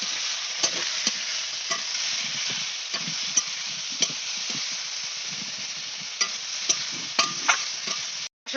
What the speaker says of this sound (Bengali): লবণ দিলাম এখন ভালো করে কষিয়ে নেব